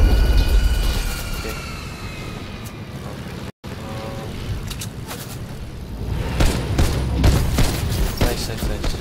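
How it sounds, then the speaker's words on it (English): Gunfire from above in a Fortnite battle royale match, with dense crackling bursts and booms continuing through the scene, a brief dropout midway, and voices talking over the shooting. "We're getting shot from above."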